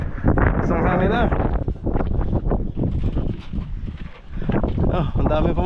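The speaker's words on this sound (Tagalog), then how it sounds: "Ang sarap ng hangin." Strong wind buffets the microphone outdoors in a loud, gusting roar while people talk underneath.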